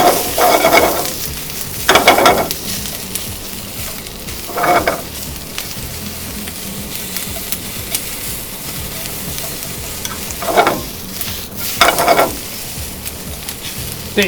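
Pork and vegetables for twice-cooked pork being stir-fried in a pan, with a steady low sizzle broken by several loud bursts of stirring and tossing at irregular intervals; no voices.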